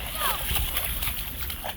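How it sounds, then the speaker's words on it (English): Feet kicking through floodwater on a flooded street after a hurricane, with close splashing and sloshing under a person talking. "I am in the street and I'm kicking up water."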